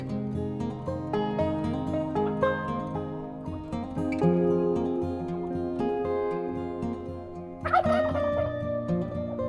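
A Bourbon Red turkey gobbles repeatedly in a chicken yard in cold weather. The rattling, warbling calls come close and loud, layered with other fowl murmurs, and end in a sharper burst near the end.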